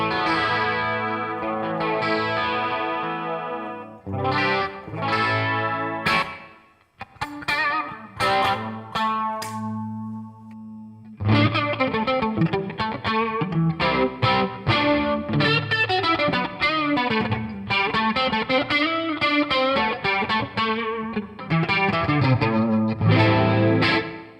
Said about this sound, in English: So we were checking out the Super Mini Chorus. We were on the chorus version. So we have a really nice dreamy sound there